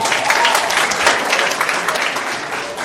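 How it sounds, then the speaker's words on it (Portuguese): An audience at a debate on education at IFRN applauds, a dense, steady wash of clapping that carries on evenly at moderate loudness before slowly easing off. "Vamos aplaudir Marlene Chauí, ela merece."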